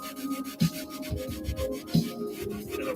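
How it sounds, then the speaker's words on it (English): A new sponge scrubs dirt off sneakers in short rubbing strokes, a soft steady scratchy friction with two sharper scuffs, close and quiet, no talking. "I always like to use a new sponge. Just something I've learned. It really gets the dirt off."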